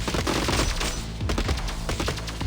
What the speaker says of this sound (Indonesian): sniper kita mulai menembak